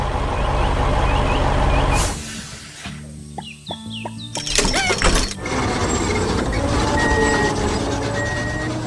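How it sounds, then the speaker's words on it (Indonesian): A cheerful yellow cartoon bus drives around a colourful garden with a rumbling engine, a sharp air-brake hiss partway through, a burst of beeps, then steady motor drone. "bus berwarna kuning ceria melaju dengan berani"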